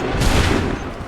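A loud musket volley fires at once in an Assassin's Creed 3 battle, a single heavy boom that rolls and fades over about a second.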